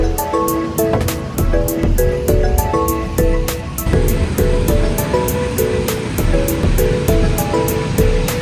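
Sea waves breaking at Kashid beach on the Konkan coast during rain, a steady loud roar of surf close by with a continuous wash of noise and no talk.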